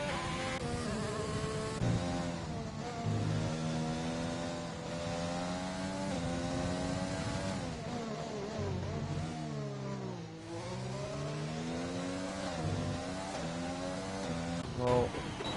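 Race car engines droning on track during an off-season practice session at Bahrain in a sim racing game, several high whining tones rising and falling together steadily throughout without a break.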